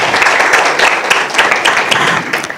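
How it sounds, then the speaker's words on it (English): Graduation ceremony audience applauding, a dense steady wash of many hands clapping that holds at full level for a few seconds, with scattered sharper claps standing out. "Another round of applause for all of us."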